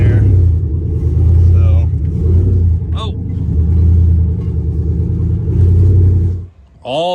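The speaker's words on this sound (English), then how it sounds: "The exhaust is just dumping out the bottom right there." Engine of the JH Gasser roaring with exhaust dumping out of zoomie headers, a loud steady low rumble with surging revs that cuts off near the end, a voice speaking over it.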